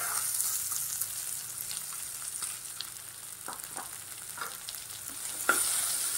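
Sweet corn stirred in a pan with turmeric and salt, a steady scraping stir over a soft frying sizzle, with several sharp clacks of the spoon against the pan, close and alone.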